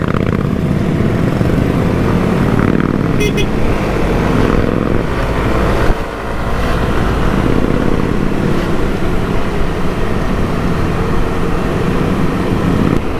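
A group of motorcycles rides in a parade across Bucharest while police hold back traffic, giving a steady, loud, continuous engine drone with wind rush that barely changes.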